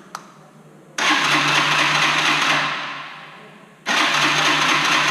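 A Kymco Zing II 125cc scooter is started, with two loud bursts of starter and engine noise close by. The first runs for about three seconds and fades before the second attempt kicks in.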